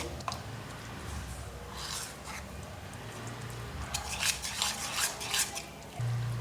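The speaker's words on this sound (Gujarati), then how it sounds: "ફરી એકવાર મિક્સ કરી લઈએ" A spoon stirs instant corn and spinach dhokla batter, thinned with a little buttermilk, in a bowl, giving soft, repeated wet scraping and squishing strokes up close with no talking.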